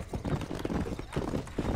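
Horse hooves clip-clopping at a quick trotting pace in the western game Red Dead Redemption, a short rhythmic run of thuds over faint background noise.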